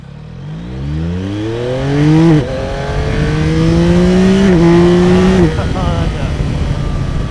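A 2024 Yamaha MT-09 with its acoustic amplifier intake accelerates up through the gears, the loud engine note climbing in pitch, dipping at each shift and climbing again, close and strong with wind behind it.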